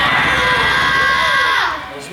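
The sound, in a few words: children imitating a lion's roar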